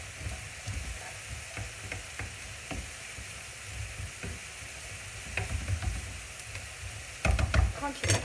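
Green vegetables frying in a pan over high heat, a steady close sizzle with occasional stirring scrapes and a louder burst near the end, no talking.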